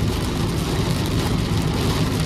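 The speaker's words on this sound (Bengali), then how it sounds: "যত আমি এগোচ্ছি বৃষ্টির আওয়াজও বাড়ছে, চচ্চর চচ্চর চচ্চর করে বৃষ্টির আওয়াজ বাড়ছে।" Rain heard from inside a car driving on the Kalyani Expressway near Kolkata: a steady, loud broadband wash of rain and road noise with a continuous low engine rumble, no talking.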